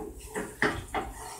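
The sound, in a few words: stirring macaroni and butter in a pot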